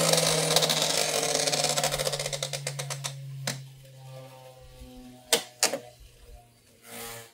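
A Beyblade X top spins in a plastic stadium after a reverse X-dash launch, giving a dense rattling whir that fades over the first few seconds, followed by a few sharp, isolated clicks.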